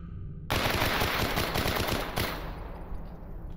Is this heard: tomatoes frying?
no